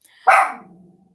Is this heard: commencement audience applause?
no